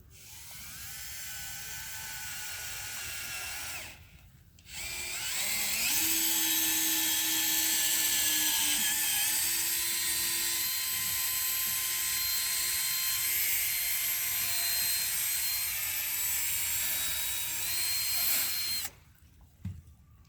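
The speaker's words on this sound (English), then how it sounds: "got the plate lined up with them, so we're good to start drilling" A power drill whines steadily for long stretches while drilling holes for a diving board mount on a 2019 Bennington boat, with a short pause early on and a stop near the end, loud and close.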